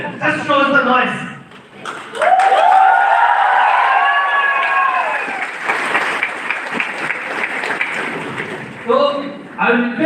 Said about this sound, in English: How will you clap for them? And hoot for them?